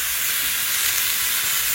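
Boiled vegetables hitting a hot pan with onion already in it, giving a loud, steady hiss of sizzling that fills the short moment without any voices.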